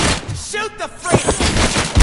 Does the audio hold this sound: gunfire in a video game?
yes